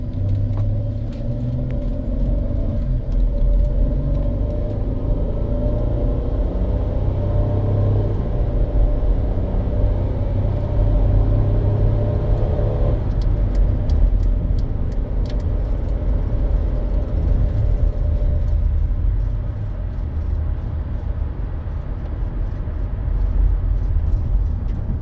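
A high-mileage van at 250,000 miles cruises along a road on a test drive, a steady low rumble of engine and tire noise holding continuously throughout with no talking.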